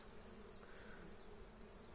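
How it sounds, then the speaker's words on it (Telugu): Honey bees swarm around a wild hive during a honey hunt, giving off a continuous soft buzzing drone. Single insects pass close now and then. "అదిగో ఫ్రెండ్స్, తేనె ఇదే. ఈగలు ఉన్నాయి ఇక్కడ"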